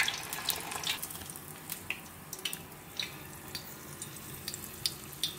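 Cauliflower buffalo cheese balls fry in hot oil, giving a steady crackling sizzle dotted with small pops and bubbling, close and fairly quiet, with no talking.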